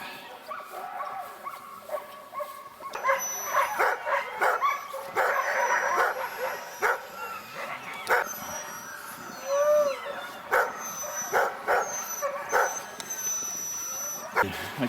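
Dogs bark, yip and whimper at a Norwegian puppy compound in winter, a busy chorus of close and farther calls with high whines, while people talk over them.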